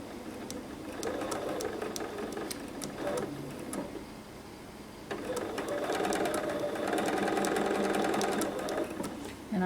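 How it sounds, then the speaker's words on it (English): A sewing machine stitches binding onto a quilt edge in steady whirring runs, with a short pause partway through before a longer, louder burst of stitching. "try to do a few stitches to see where it sits with the crease line"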